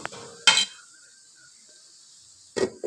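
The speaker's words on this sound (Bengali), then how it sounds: "এটাকে এবার আমি ঢেকে দেবো" A lid goes onto a curry pot of potato, eggplant and pumpkin, marked by two sharp metallic clanks separated by a quiet stretch with a faint simmer beneath.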